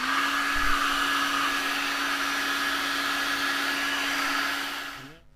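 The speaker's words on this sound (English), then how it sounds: "So I'm going to dry it a little bit more with a hairdryer." A hair dryer blows steadily with a constant whirring hum for several seconds, then switches off and winds down.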